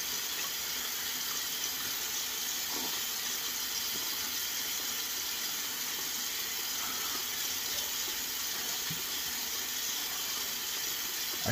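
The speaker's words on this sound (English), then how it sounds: "I still have the hot water running." Hot water runs steadily from a tap in a constant, even hiss that never pauses, with no voices heard.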